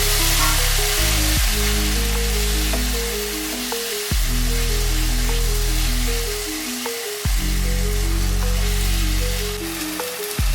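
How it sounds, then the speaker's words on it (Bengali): Spices and turmeric sauté in hot oil in a pan for a Bengali spicy fish curry, a loud, steady close sizzle that runs throughout, with occasional stirring knocks and no talking. "ভালো করে হলুদ দিয়েছি, এবার একটু ভালো করে কষিয়ে নিই।"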